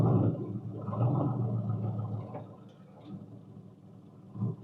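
A 1967 Corvette 427 rolling slowly over parking lot speed bumps in Las Vegas, a low rumbling engine and road drone that swells and eases, with a soft thump near the end.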